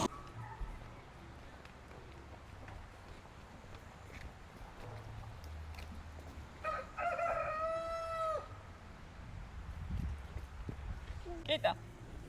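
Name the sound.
rooster crowing at zoo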